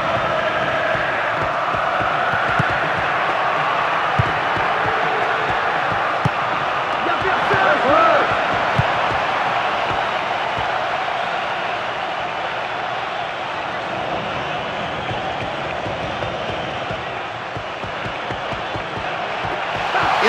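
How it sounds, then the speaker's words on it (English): Football stadium crowd roaring and cheering steadily throughout, a dense wall of massed voices with a brief swell in the middle, sustained and loud. "that's really got the crowd going"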